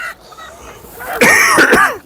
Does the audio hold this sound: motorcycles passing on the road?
no